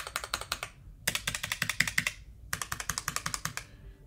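The caps lock key on a ROCCAT Vulcan II Mini Air keyboard is stabbed hard again and again, producing close, crisp, rapid clacks in three quick runs separated by brief pauses.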